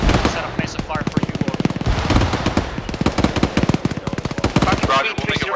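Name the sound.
gunfire in the video game ArmA 3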